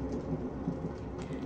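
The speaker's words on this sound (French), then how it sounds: "la pluie dehors," Rain falls outside a night train, a dense, steady hiss with a low rumble underneath, continuous and fairly loud with no talking.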